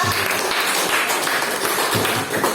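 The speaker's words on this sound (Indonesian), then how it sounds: "aplaus dulu deh untuk Nanisa" A small classroom audience gives a presenter a brief round of applause, a close patter of claps lasting a couple of seconds.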